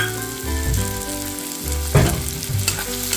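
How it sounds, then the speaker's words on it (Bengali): Chopped green chillies fry in hot oil for a cabbage bharta, giving a steady close sizzle with a sharper crackle about two-thirds through, with no talking. "দিয়ে ভালোভাবে এটা ফ্রাই করে নেব"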